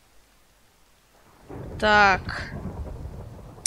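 Rain in the video game Minecraft sets in as a steady broadband hiss about halfway through, continuing to the end, while someone speaks a single short word over it.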